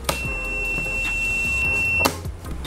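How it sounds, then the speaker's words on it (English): A thin electronic buzzer tone from a model rocket launch controller's continuity circuit sounds continuously for about two seconds, bracketed by sharp clicks at the start and end. "We put a buzzer as part of the continuity system in this launch controller."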